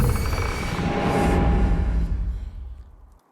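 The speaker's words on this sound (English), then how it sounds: "there's this quick, high-pitched, whiny sound, and that's actually a horse neighing" High Noon Twitch ability oncast sound from a video game, layered with a horse neighing: a loud, dense whooshing burst with a brief high whinny, fading out over a few seconds, no speech.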